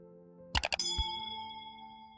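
Notification bell: a quick cluster of bright metallic dings followed by one more, leaving a clear ringing tone that decays slowly over near silence.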